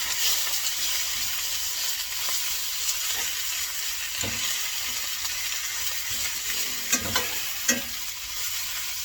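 Pork chops seasoned with Himalayan salt fry in a pan with a steady broad hiss, with a few faint scrapes and taps as they are shifted around, the last ones a little sharper.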